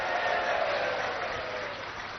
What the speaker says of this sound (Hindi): जोर से ताली बजाओ नरेंद्र मोदी लागी